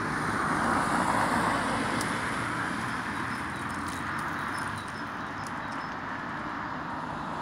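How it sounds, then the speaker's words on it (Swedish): Monday morning traffic rolls through a roundabout in Vällingby, Stockholm, a steady wash of passing cars and road noise, louder early then easing slightly, with faint scattered clicks and no talking. "Så här ser trafiken ut här."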